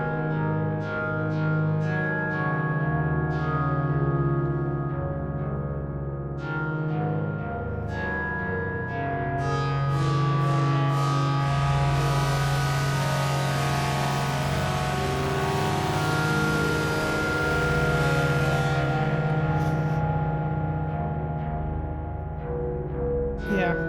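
Novation UltraNova synthesizer plays sustained tones through effects such as distortion, chorus and echo, layered chords with rhythmic bright bursts and a filter sweep that opens up, loud and continuous.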